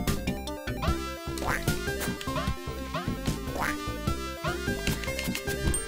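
A cartoon duck in the Sega Genesis game Bubble and Squeak quacks again and again as it is kicked, the quacks repeating in a steady run over busy, dense game music and effects.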